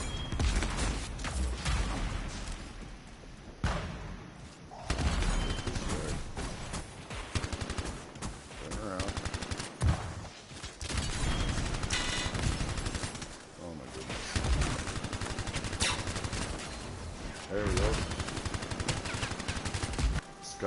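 Rapid, dense gunfire from weapons in the sci-fi shooter Anthem bursts almost without pause, loud and close, with heavier booming blasts mixed in. Voices talk over the shooting at points.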